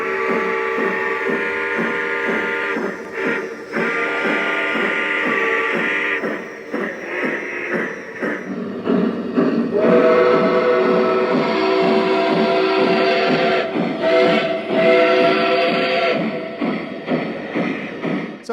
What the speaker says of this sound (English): You always have to turn the chuff effect way up to get any sort of heft out of it.